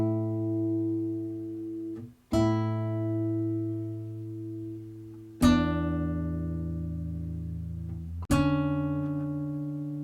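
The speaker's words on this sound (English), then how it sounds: "just play some chords on my nylon guitar" Chords strummed on a nylon-string guitar ring out one at a time, four separate strikes each left to sustain and decay, soft and close with no voices.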